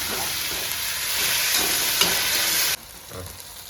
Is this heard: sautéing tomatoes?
yes